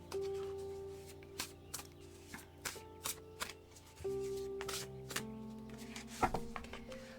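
Tarot cards are shuffled in a quiet room: a run of crisp riffling bursts and soft flicks at an uneven pace, close and fairly faint, with a low steady hum behind them.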